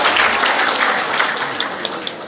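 Applause for a deputy mayor at a formal civic gathering in Pekanbaru, a steady wash of many hands clapping that fills the whole moment, with a few sharper claps standing out near the end.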